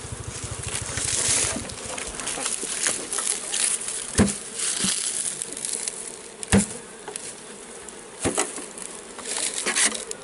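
Bees swarm around a beehive box in Jamaica, a close, steady buzzing drone with individual insects zipping past the ears, punctuated by several sharp thumps.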